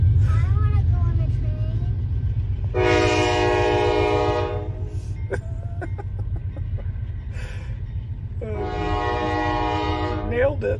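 A train rumbles past with a long, loud horn blast sounding twice, each lasting a couple of seconds, over a steady low engine and wheel roar, with clicking wheel beats between the blasts.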